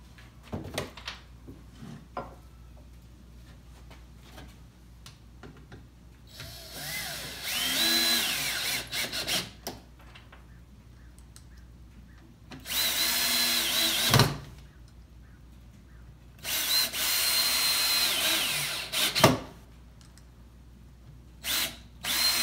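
A cordless power drill drives screws into a wooden work shelf in a garage while a bike stand is assembled, with three loud sustained whirring bursts of several seconds each, separated by quieter handling clatter and pauses.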